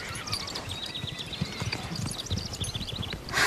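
A horse's hooves clip-clop in a steady, fairly quick rhythm in a video game, continuous and moderately loud with no talk over it.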